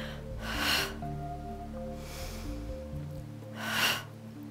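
Two strong breaths, a sharp inhale-exhale near the start and another near the end, close and clear over a steady background music bed during a Pilates arm workout on a stability ball.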